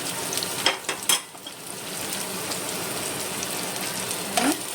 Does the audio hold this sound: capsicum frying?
yes